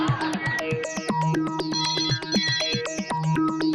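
A bright electronic phone ringtone plays a quick repeating melody of beeping notes, loud and close, with no voices.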